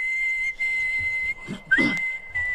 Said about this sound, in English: he's like the Mariah of whistling.